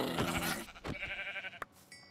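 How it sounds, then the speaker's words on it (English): A sheep in Minecraft bleats twice in quick succession, close and clear, its wavering cry ending with a short click and a faint tone. "It's just a sheep."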